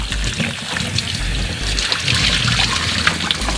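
Tap water running and trickling over potatoes being rinsed clean of dirt, a steady close splashing stream with small sloshing shifts as the potatoes are handled.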